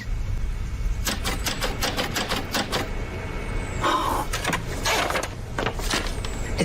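A typewriter clacks in irregular bursts of sharp, close keystrokes, with a brief mechanical whir partway through, over a steady low hum and no talk.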